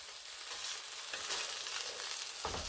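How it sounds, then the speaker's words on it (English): Spam sizzles in a skillet on a butane burner at an off-grid cabin, a soft, steady crackling hiss that goes on throughout with no voices. "Got my Spam sizzling in the skillet."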